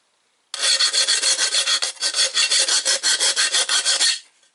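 An aluminum intercooler tube being deburred with a file: a close, steady run of rhythmic rasping strokes lasting about four seconds, with no talking.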